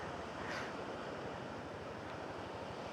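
Sea waves wash onto a Philippine shore with a broad, constant rushing surge mixed with wind buffeting the microphone. No one speaks.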